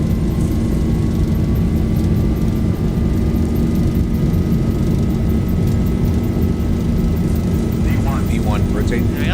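Boeing 737 engines spooling at takeoff thrust in the X-Plane 11 flight simulator, a loud, continuous deep roar with a steady high whine, dense and unbroken throughout, with some speech under it.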